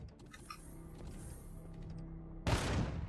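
Enemy machine gun fire in the game Empyrion, a scattered run of distant shots under game noise, ending in a loud close burst near the end.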